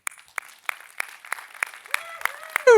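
A small audience at a talk responds with sparse applause, individual sharp claps spaced roughly evenly, moderately near and fairly quiet, with a faint tonal sweep and a louder noise at the very end.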